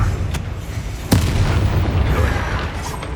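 Bombarda spell explosions in Hogwarts Legacy: a sharp blast near the start and a heavier booming burst about a second in, followed by a rumbling low tail, loud and close.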